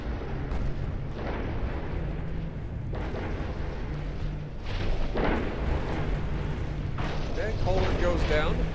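Battleship gunfire in a video game campaign booms out as several heavy, rumbling blasts spaced a few seconds apart, loud and continuous with a low roar underneath, while a voice talks over it.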